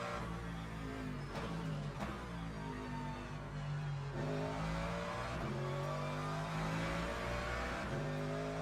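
A hypercar engine in a racing video game roars steadily and loudly with a rising, revving drone, the tone shifting as it builds through gear changes.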